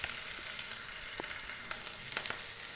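Green chilies fry in hot oil for a bottle gourd curry, giving a continuous close sizzle with scattered pops and light crackles throughout and no talking.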